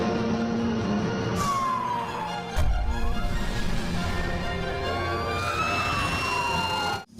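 A toy fire truck siren wails in rising and falling electronic sweeps, loud and close, with a brief bump partway through and the sound cutting off abruptly at the end.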